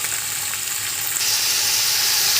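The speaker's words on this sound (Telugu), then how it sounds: "నీట్గా ఫ్రై చేసుకోవాలి." Chopped ivy gourd fries in hot oil in a pan, giving a steady, loud, continuous sizzle and hiss throughout with no voices.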